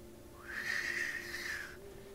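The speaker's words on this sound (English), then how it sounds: "You hear the wind whistling" Wind whistling across an Arctic tundra, a single high, steady whistling tone that rises in, holds for about a second and fades, over a low background hum.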